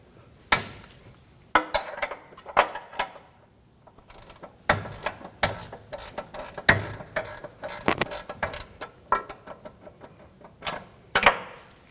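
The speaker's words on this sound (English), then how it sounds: "We'll loosen up the front nut and bolt holding the control arm in" A 17mm wrench loosens the nut and bolt holding the front lower control arm on a 2013-2015 Subaru XV Crosstrek. It gives close, irregular metallic clicks, ratcheting and clanks with short pauses between bursts, and no one speaks.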